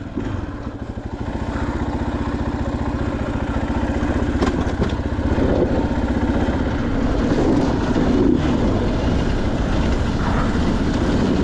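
A 2023 KTM 500 EXC-F dirt bike, fitted with an aftermarket ECU and Graves exhaust, drones steadily under heavy load in third gear, a loud continuous engine roar heard close up without pauses.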